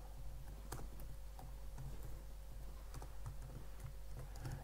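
Quick, irregular keystrokes on a computer keyboard while an x86 assembly OS shell is being coded, clustered taps near and fairly soft, with a steady low hum beneath.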